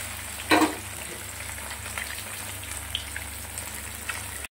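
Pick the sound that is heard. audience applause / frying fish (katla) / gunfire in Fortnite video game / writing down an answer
frying fish (katla)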